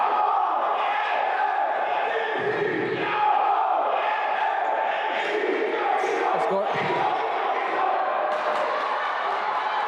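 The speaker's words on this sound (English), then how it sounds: "As you hear the crowd starting to get into it once again" Crowd at a women's college basketball semifinal, KC Giants versus Notre Dame, cheering and shouting throughout in a steady, lively roar filling the gym, with a few sharper whoops and thuds.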